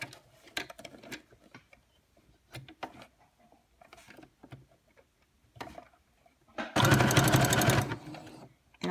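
A sewing machine sewing fabric flat for an adjustable frontal band: scattered clicks and handling taps, then a loud, steady whir of rapid stitching for about two seconds near the end, close and without talk.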